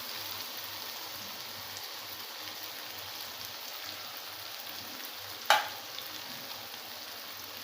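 Shimla mirch (bell pepper) curry with yogurt stirred in, giving a steady soft sizzle and hiss in the pan throughout, with one sharp utensil clink near the end and no voices.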